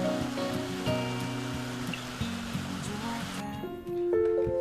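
Jiktang waterfall on the Hantan River sends a continuous broad wash of rushing, splashing water, moderately loud and steady, heard beneath tonal background music.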